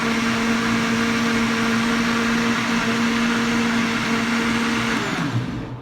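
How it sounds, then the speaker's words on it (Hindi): Kitchen blender whirring steadily and loudly as it grinds green chilies, coriander and mint, a constant high motor drone that cuts off near the end. "ये ब्लेंड हो रहा है, इसको अच्छे से ब्लेंड करना है।"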